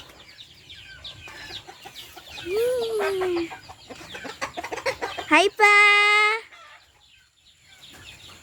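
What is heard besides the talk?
chickens clucking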